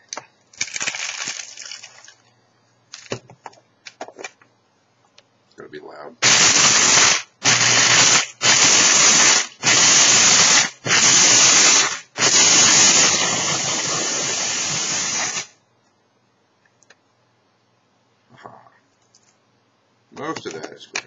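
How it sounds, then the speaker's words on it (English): Dried herbs being ground in a small electric grinder, several loud whirring bursts back to back, then one longer continuous run before it stops, with clicks and handling noise around it. "So I'm going to grind this up."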